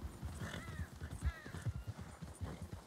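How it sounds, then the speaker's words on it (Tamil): A white horse in Red Dead Redemption 2 moving along, a steady rhythm of soft hoof thuds close by with faint higher calls above. "நம்ம ஒரு வெள்ளை குதிரையை பிடிச்சோம்"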